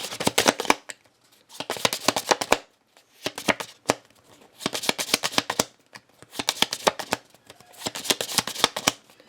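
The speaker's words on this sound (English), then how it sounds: "then you have your nice riffle sounding hand shuffle" Playing cards riffled by hand in a series of quick, crisp fluttering bursts, about seven or eight shuffles separated by short pauses, close and clear.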